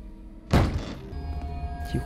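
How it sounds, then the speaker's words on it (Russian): A knock from inside a box in the horror game CASE Animatronics: one heavy muffled thunk, then a quieter second bump, over a low room drone. "Коробки что-то стучит, слышите?"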